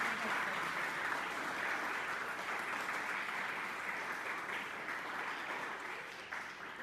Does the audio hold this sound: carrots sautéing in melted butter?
no